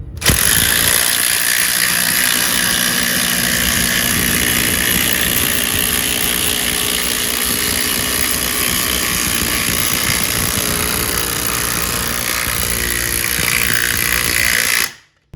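Milwaukee and Metabo HPT cordless impact drivers hammer continuously at full speed in a side-by-side test, a loud, dense rattling buzz that holds steady for about fourteen seconds, then cuts off abruptly.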